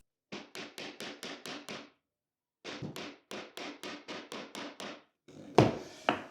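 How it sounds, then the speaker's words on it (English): A hammer taps a pry bar to fit laminate flooring boards against a wall. The sharp knocks come in two quick, even runs of about seven blows each, followed by a couple of heavier, ringing hits, close by and with no talking. "I did have to tap the pry bar towards the wall first just to get it to slide in between the boards."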